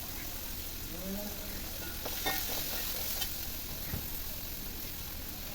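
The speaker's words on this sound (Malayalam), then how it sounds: "ഇനി അതിലേക്ക് സവാള ചേർത്ത് കൊടുക്കുക പച്ചമുളക് ചേർത്ത് കൊടുക്കുക" Onion and green chilli sautéing in hot oil for a beef curry, a steady low sizzle with a few soft stirring scrapes partway through, moderately close and without talk.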